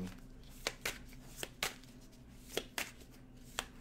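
Tarot cards are shuffled in a quiet room, giving a series of soft, separate riffle bursts at an uneven pace, with low background hum and no talking.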